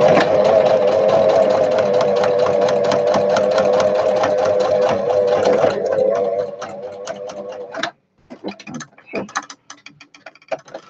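An electric sewing machine stitches fabric in a steady, loud mechanical whir with rapid needle clatter, then slows into short bursts and stops, followed by a few scattered clicks and handling noises close by.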